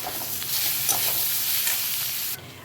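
Chopped onion, ginger, garlic and green chillies fry in a pan with a loud, constant close-up sizzle and hiss of oil, stirred briefly, before the sound cuts off sharply near the end.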